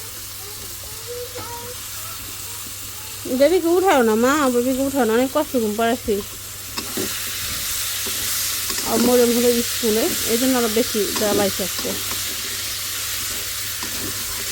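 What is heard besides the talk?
pigeon meat being sautéed and stirred in a pan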